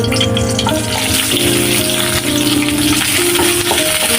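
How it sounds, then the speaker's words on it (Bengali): Cubed onions and dried red chillies sizzle loudly in hot oil in a pan, a dense, steady crackle with some stirring clatter, close and continuous without any talking. "এটা আমি বেজে নিব একটু লাল করে"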